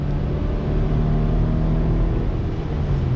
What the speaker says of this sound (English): you get that usual high RPM drone that you normally get from a CVT